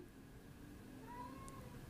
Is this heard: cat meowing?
yes